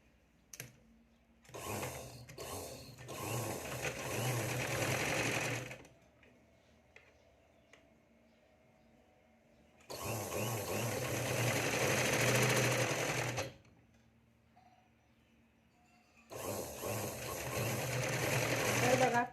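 Sewing machine stitching the finishing seam on a puff sleeve, running in three steady bursts of rapid mechanical whirring separated by pauses.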